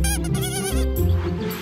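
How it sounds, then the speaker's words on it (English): A cartoon cow in a children's animated show lets out a loud, wavering bleat-like moo that fills the short clip. "The cow!"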